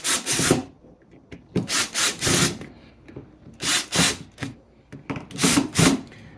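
Screws being tightened on the motor of a Makita DUR181 weed eater, heard as several separate close-up bursts of scraping, grinding tool noise with short pauses between them.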